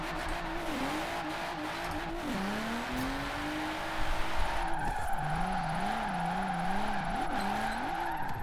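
A BMW M4 drifting on a mountain road in Forza Horizon 4, with continuous engine drone and long wavering tire squeals that rise and fall as the car slides, steady and fairly loud with no talk.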